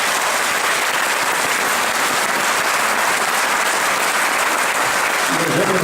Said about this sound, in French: on peut l'applaudir beaucoup.